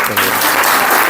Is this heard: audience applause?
yes